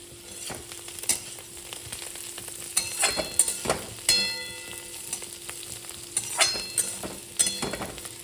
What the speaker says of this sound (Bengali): তাই একটু বেশি করেই ভাজা করছি।